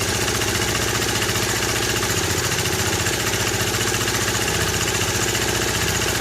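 A vintage 1965 Honda E300 generator engine idles on its own with a steady, close, even chugging hum that holds for the whole stretch, with no talk over it.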